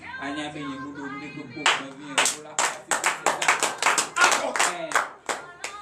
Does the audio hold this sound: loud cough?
no